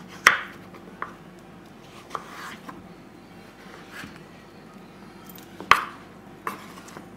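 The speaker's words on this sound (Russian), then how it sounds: "Режем папайю, как нам удобно, лишь бы было удобно на вилку накалывать." A knife chops papaya against a cutting board in a few sharp, separate strikes with pauses between them, close up and with no talking.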